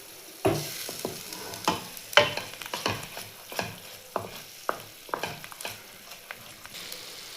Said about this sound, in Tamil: அது அடி பிடிக்காத அளவுக்கு நம்ம இதை கைவிடாமல் கிண்டிக்கிட்டே இருக்கணும்.